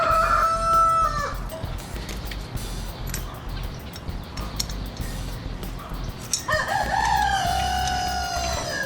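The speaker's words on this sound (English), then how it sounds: "Oh my God, chickens." A rooster crows loudly twice, once at the start and again near the end, with chickens clucking faintly in between against a steady outdoor hum.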